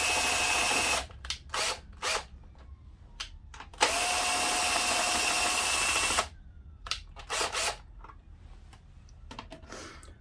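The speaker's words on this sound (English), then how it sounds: "I'm going to get the rest of the airbox out, which is just another 2 10mm bolts." A power tool whirs in steady bursts, loosening 10mm bolts from a Kawasaki ZX6R motorcycle's airbox, with clicking and handling noises between the runs.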